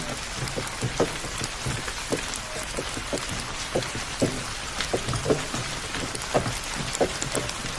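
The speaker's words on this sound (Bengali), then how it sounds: "প্রায় 1 ঘন্টা ধরে বৃষ্টি হচ্ছে, বৃষ্টি থামার কোনো লক্ষণই দেখছি না।" Heavy cartoon-style rain pours steadily, a dense hiss of falling water with scattered louder drop splashes throughout, no voices.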